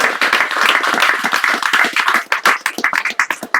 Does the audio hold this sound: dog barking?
no